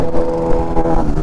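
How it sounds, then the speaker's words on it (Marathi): Another motorcycle goes by on a Sunday-morning road crowded with bikers, a brief, continuous engine drone at close range. "अजून एक कोणती तरी बाईक आली"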